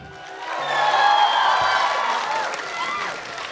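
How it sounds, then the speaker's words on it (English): A crowd at a Mr. & Miss Fresher pageant cheers for the top 10 contestants, with whoops and scattered clapping that rise and then ease off. "Please give it a round of applause for the top 10."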